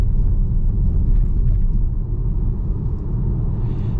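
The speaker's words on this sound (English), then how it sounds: "this is just about the roughest stretch of the road" A 2024 VW Tiguan drives over a rough stretch of road, giving a steady, loud low rumble of tires and suspension from inside the cabin.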